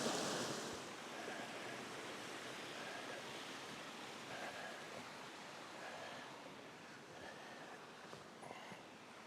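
A creek flows steadily under a small wooden bridge on a forest hiking trail, giving a continuous close rushing wash with some wind noise and no voices.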